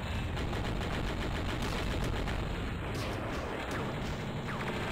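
Rapid gunfire rattles from the Crazy Flasher 5 video game, a dense continuous burst of machine-gun shots that stays loud for the whole stretch.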